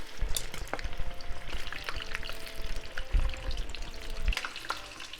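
Curry-filled buns fry in oil over medium heat, giving a steady crackling sizzle with bursts of popping and bubbling, fairly close and moderately quiet, with no voices.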